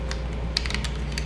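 Quick typing on a Keychron K1 low-profile wireless keyboard in an office-type setting, a rapid run of light, crisp key clicks heard close up over a steady low hum.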